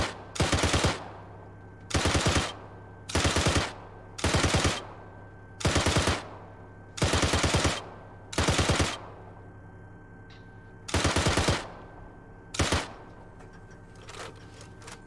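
A gunner in the video game Arma 3 fires a machine gun in about eight loud, sharp bursts of rapid shots, each lasting under a second, separated by short pauses.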